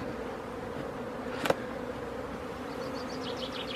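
Honeybees buzzing at a hive while an apiarist handles hanging clusters for mini mating nuclei, a faint continuous hum with a few brief individual buzzes passing near the end and one short sharp knock midway.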